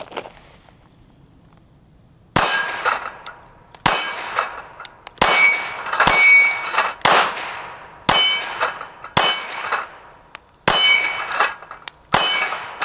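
Pistol shots ring out one after another against a steel dueling tree target, each sharp crack followed by a bright metallic clang and ringing decay, about nine hits spaced a second or so apart after a quiet opening.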